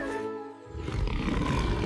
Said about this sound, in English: He has very big teeth and a very loud roar.